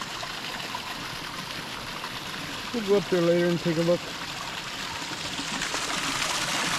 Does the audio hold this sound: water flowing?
yes